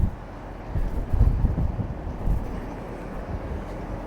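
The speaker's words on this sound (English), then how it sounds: "Man, this wind." Wind buffeting a microphone outdoors beside a tarped superload on a truck, with low rumbling gusts that swell and fade unevenly over a few seconds.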